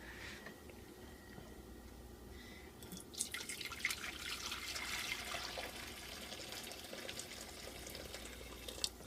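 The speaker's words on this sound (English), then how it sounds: "So I have this small pot on high. I'm going to pour this stock." Stock poured into a small pot set on high heat. After a quiet start, a soft, continuous splashing pour begins about a third of the way in and runs to the end.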